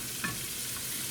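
Hot grease for frying armadillo gives a steady, fairly quiet sizzle that holds for about a second, with a brief stir or crackle near the start and no voices.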